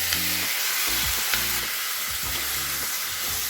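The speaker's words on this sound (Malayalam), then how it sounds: "ഈ സമയത്ത് ഇതിൽ നമ്മൾ നേരത്തെ കഴുകി വെച്ചിരുന്ന ചിക്കൻ ചേർത്ത് കൊടുക്കും" Washed chicken goes into browned onions for Mangalorean chicken sukka, giving a steady, close sizzle with a few stirring scrapes, under a repeating tonal background.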